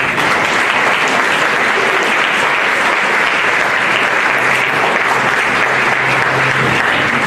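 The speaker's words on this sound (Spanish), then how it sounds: "Démosle un fuerte aplauso" Sustained, loud audience applause for a lecturer at a conference on organized crime and body identification, a thick continuous wash of clapping from a large hall crowd, unbroken and even from start to finish.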